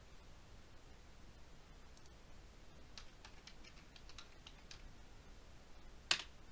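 A search is typed on a computer keyboard: a short run of quick, faint key clicks over steady background hiss, ending in one sharper, louder tap.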